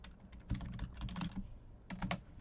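Rapid, uneven clatter of keys on a computer keyboard, close and fairly quiet, with bursts of quick keystrokes and brief pauses between them.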